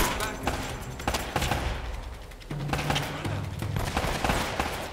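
Pistol and AK rifle gunfire in the action video game Uncharted, with sharp shots and bursts repeating steadily over a low rumbling game backdrop.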